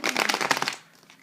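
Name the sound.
shuffling tarot cards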